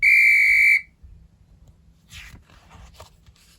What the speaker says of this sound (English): Mum had to blow her whistle.